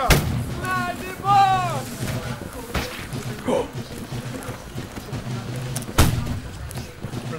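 Musket volleys crack out during a Holdfast: Nations At War line battle, heard as several broad booming bursts spaced a few seconds apart, with a voice shouting orders.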